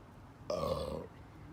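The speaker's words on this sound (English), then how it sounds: "I could smell that burp." A single loud, drawn-out burp about half a second long, close by and standing alone against quiet room tone.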